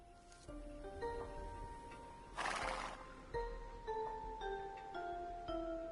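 A Scout Cavalry horse from the Age of Empires video game whinnies once, loud and clear, over a background of sustained tonal game music, with faint hoof clip-clops around it.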